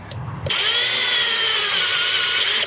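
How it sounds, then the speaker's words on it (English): A step drill bit rated up to 32 mm cuts a hole during a pedal installation on a Lexus IS300 manual swap, giving a loud, steady, high whine that starts abruptly and runs close without pause. "Alright, this is a step drill bit."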